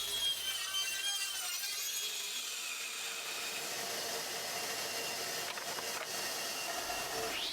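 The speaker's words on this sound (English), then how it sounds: "Applied to the crosscut sled, these will support the square stock so that I can cut it down into the triangular pieces" A saw cuts square wood stock into triangular pieces on a crosscut sled, giving a steady high whine with a gritty cutting texture that runs unbroken and fairly loud throughout, with no voices.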